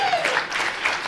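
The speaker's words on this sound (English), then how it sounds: "You can clap it up for that" A comedy festival audience applauds briefly at close range, a dense wash of clapping that lasts about a second with no talk over it.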